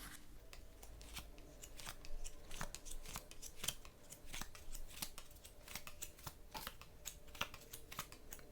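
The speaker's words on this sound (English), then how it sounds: "Shuffle the cards, ground yourself, trust, and then deal out the cards like this." Tarot cards being shuffled and dealt, a steady run of crisp, sharp card snaps and slides repeating at close range with no talking.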